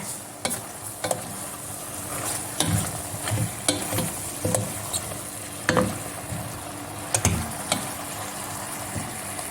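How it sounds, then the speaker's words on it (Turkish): A leek dish cooking in a pan is stirred with repeated spoon scrapes and knocks at an uneven rhythm, under a gentle ongoing sizzle with no talking. "Yemeğimi yeniden karıştırıyorum."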